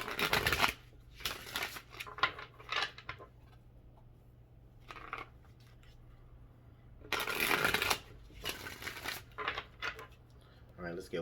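Tarot cards are shuffled in quick riffling bursts, close to the mic, with quieter handling sounds and soft rustles between the louder shuffles.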